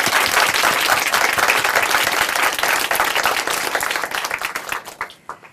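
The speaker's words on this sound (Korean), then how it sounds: "다시 한번 큰 박수 보내드리겠습니다" An audience in a church testimony program breaks into a big round of applause, loud, dense clapping that holds strong before thinning and fading out over the last second.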